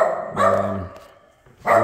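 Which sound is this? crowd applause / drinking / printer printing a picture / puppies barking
puppies barking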